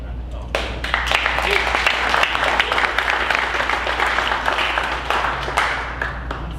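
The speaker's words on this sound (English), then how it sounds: "how about a round of applause for them?" An audience at a San Diego UX industry panel event breaks into steady applause for the panelists, a dense wash of many hands clapping that rises quickly and holds for several seconds.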